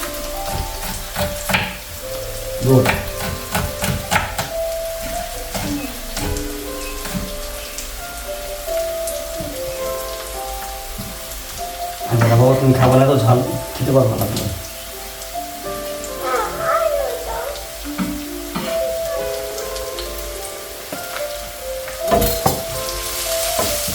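Food fries in a pan until lightly browned, with a steady crackling sizzle and bursts of stirring, close by, while voices talk intermittently in the background.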